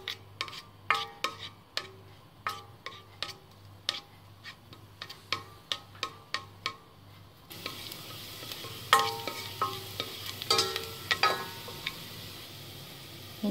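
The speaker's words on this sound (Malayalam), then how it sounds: "ഇതിലേക്ക് വെളുത്തുള്ളി ഇട്ടൊന്ന് വഴറ്റി കൊടുക്കാം" Garlic sautéing in a teaspoon of hot oil in a pan for vegetable soup, heard as sharp, irregular stirring clicks and taps that give way to a denser, brighter sizzle with scraping strokes, close and fairly quiet, with no talk.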